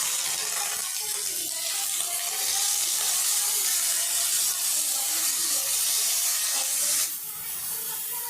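Chopped onions frying in oil with a bay leaf, a continuous close sizzling hiss with small shifts in intensity and a brief dip near the end, no voices.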